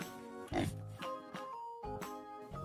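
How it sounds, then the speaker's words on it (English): Pig oinking in a few rough, nasal grunts set against soft background music, the snorts coming in quick succession at moderate loudness. "can you make the oink sound?"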